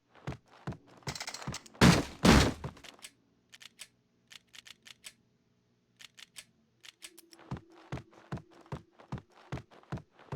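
Gunfire in the video game Max Payne 2: a sharp series of isolated shots, a loud burst of rapid fire near the start, then spaced single and paired cracks with mechanical clicks, fairly close, no talking.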